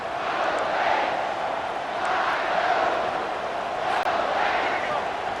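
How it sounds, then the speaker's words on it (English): Stadium crowd roar at a Michigan vs Ohio State college football game, a steady loud wash of many voices filling the whole stretch, with a commentator talking over it. "This crowd bringing the energy and noise early."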